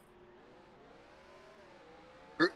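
Race cars in a racing game accelerating at a green flag start at Martinsville, a faint steady engine drone with rising pitch, ending in a short sharp burst.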